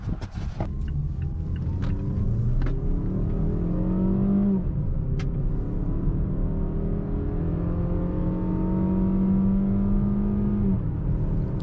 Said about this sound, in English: start up your vehicle and maybe rev the engine slowly to like 4000 RPM and then take it for a good hard drive